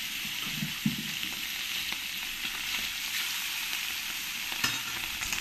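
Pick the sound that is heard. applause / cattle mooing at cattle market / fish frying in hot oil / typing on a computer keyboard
fish frying in hot oil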